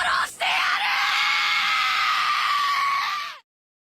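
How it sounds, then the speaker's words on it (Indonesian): Thorfinn, a young Viking in the Vinland Saga anime, lets out a loud, sustained scream of rage lasting about three seconds after a brief catch of breath, then cuts off abruptly into silence. "hingga ia berteriak"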